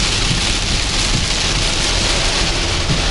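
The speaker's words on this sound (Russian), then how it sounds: "Очень сильный дождь." Heavy rain pours down on a Mercedes GLE 350 in a dense, constant hiss, loud and unbroken.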